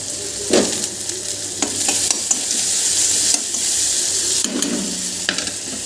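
Roti frying and being stirred in a pan in a home kitchen, a steady close sizzle with occasional scraping and stirring bursts throughout, no talking.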